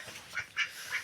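A duck on a small farm gives three short, nasal quacks in quick succession, close by and moderately loud, against a quiet background.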